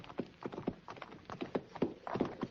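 A horse's hooves clip-clop at a steady walking rhythm as a rider approaches in a western radio drama, close and fairly crisp with no talk over them.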